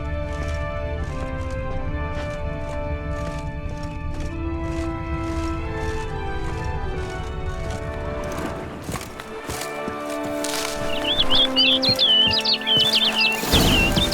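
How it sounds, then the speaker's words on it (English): Birdsong in The Witcher 3: Blood and Wine: a burst of bright, high chirps and trills that rises near the end over a steady bed of game music and ambience. "Looks like the bird's leading me somewhere."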